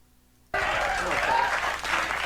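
Audience applause erupts suddenly after a brief silence, a dense wash of many hands clapping close by that carries on steadily at full loudness.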